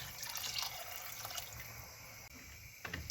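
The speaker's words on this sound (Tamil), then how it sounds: "எங்களுக்கு தேவையான அளவு தண்ணி சேர்த்துக்கொள்வோம்" Water is poured into rice in a pot for prawn biryani, giving a soft, continuous splashing trickle that is fairly faint and near, with a brief break and a small splash near the end.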